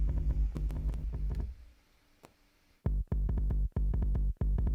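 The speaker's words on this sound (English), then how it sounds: "So the first bass note, I mean, if I take all the processing off" A bare, unprocessed 808 bass note from a drum and bass production plays as a deep, loud, booming low tone, first held steady, then after a near-silent gap returning as a series of punchy repeated hits.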